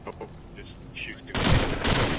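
A burst of rapid automatic gunfire in Call of Duty 4 on the Bog map, Search and Destroy mode, erupts loudly after a quieter stretch of faint game sound and continues to the end.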